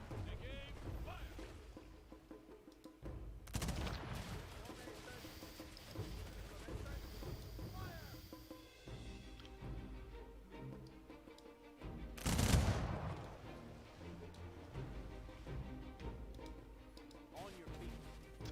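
Humankind units firing volleys of gunfire, with sharp loud bursts standing out amid busy battle noise and a voice talking over the action.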